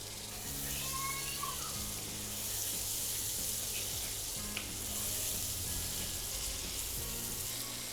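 Fish pieces cooking in a pan before spinach goes in for a palak curry, giving a low, steady sizzle and bubbling with faint utensil clinks throughout.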